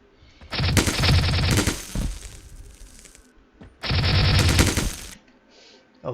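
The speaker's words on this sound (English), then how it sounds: "now they will start shooting" Enemy NPCs in an Unreal Engine third-person shooter game fire guns in two loud sustained bursts of rapid gunfire, separated by a quieter gap with faint background noise.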